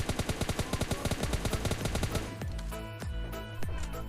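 Rapid automatic gunfire in a battle royale video game rattles in a fast, even burst, followed by a few spaced, heavier single shots with echoing tails.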